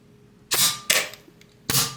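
A SuperNova N1 foam blaster fires three sharp, loud shots close by, the first two in quick succession and the third after a short pause, with no talking.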